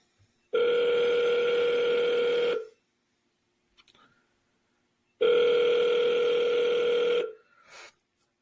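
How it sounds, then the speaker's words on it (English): A telephone ringback tone heard while calling someone who does not pick up, two long steady rings about two seconds each separated by a silent gap, close and clear with no talking over them. "This lady does not answer her phone, so I'm going to double dial her."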